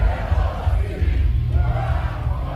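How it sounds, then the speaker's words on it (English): A wrestling audience at a live match chants together in Danish, a loud, low, rumbling wall of massed voices filling the hall, rising and falling without a break. "We're hearing a crowd chant from the audience here going, Du er og bliver en hellerup svine in Danish"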